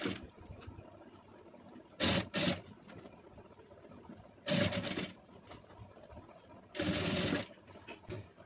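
A sewing machine stitching piping trim runs in three short, loud whirring bursts separated by quieter pauses, with small clicks and handling sounds between runs.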